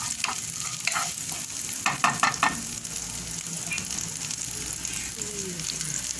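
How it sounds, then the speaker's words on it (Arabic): Sliced garlic and razor clams fry in butter in a pan, giving a continuous soft sizzle with a cluster of stirring clacks and scrapes early on. "غادي نشحرهم هكا نقليهم هكا في شويه في ديك الزبده"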